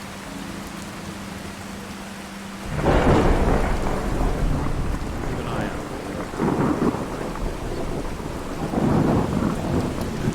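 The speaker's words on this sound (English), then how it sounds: "We're stood in the peeing down rain" Rain pours down in Fallout 4 as thunder rumbles, a loud crack and a deep roll breaking over the steady downpour, followed by further rolling swells of thunder, with a brief voice heard near the start.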